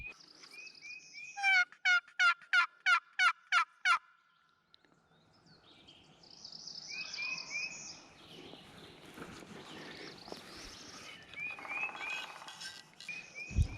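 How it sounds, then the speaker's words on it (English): A hunter plays a wooden box call in the Missouri spring woods, scratching out a rapid run of about seven sharp, raspy yelps. Quieter rustling and distant bird calls follow. "I'm just going to hit the box call a little bit"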